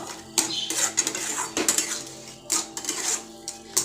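Semolina pulao pressed and mixed in a pan; close metallic clinks and scrapes of a spoon against the pan come in irregular bursts, with no talking.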